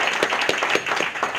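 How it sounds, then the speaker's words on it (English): Audience applause at a holiday dinner and dance, a brief dense patter of many hands clapping at steady loudness, with no voices. "so clap it up for them as well."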